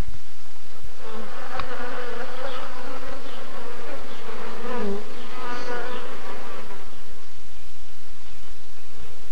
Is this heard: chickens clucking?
no